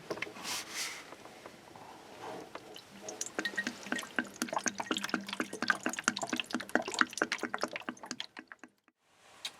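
Coolant drips and trickles from a Peugeot 307 1.6 radiator during a replacement, a rapid patter of close drops that speeds up into a steady run of splashes before cutting off abruptly.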